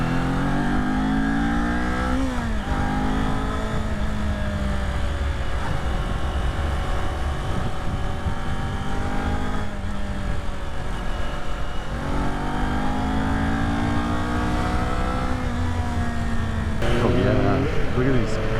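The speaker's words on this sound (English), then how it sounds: "I want to give it a little bit of a ride faster than 25 miles an hour" A Kawasaki Z400 motorcycle accelerates on a mountain road, its engine note rising and falling through several gear changes, close and loud throughout with a brief harder rev near the end.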